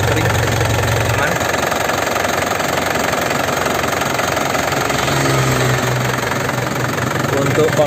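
A black 2012 Grand Touring turbo car engine runs at idle with a loud, steady rattling thrum throughout, while someone talks over it.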